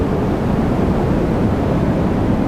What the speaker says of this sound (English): And this is the sound of dust devils on Mars.